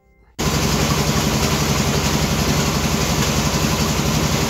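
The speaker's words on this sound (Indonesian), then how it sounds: "Pada saat proses penggilingan jagung, suaranya itu kenceng banget teman-teman" After a brief quiet moment, a corn grinding machine starts up and runs loud and steady with a harsh mechanical roar and constant rattling, close by, in an Indonesian village.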